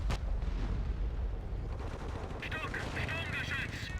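Tank guns fire in a World War II desert battle in the Blitzkrieg mod strategy game, with a sharp opening shot followed by rapid, rattling bursts of fire. The sound is fairly faint and stays busy throughout.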